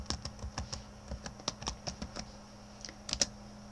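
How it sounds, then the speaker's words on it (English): Keys tap unevenly on a computer keyboard while a password is entered during Windows 98 setup, light close clicks in short bursts with brief pauses between. "Type in whatever password you want, and this is how you set it for your computer."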